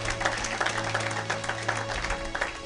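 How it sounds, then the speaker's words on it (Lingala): A church congregation breaks into steady applause, many hands clapping in a dense, even patter that fills the room at moderate loudness, with faint crowd murmur beneath. "Acclamons pour la gloire de notre Dieu"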